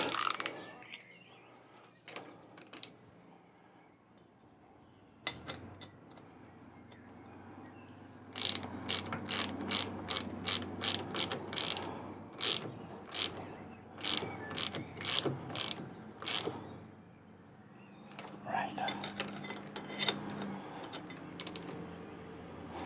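Ratchet wrench working a bolt on a David Brown 990 tractor during hydraulic lift cylinder cover repair: sharp clicking ratchet bursts in quick series, close and clear, with scattered clanks and occasional outdoor birdsong in quiet gaps.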